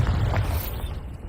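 The Bombarda spell goes off in Hogwarts Legacy as a brief, heavy explosive boom with a deep low rumble and a quick burst, loud and close.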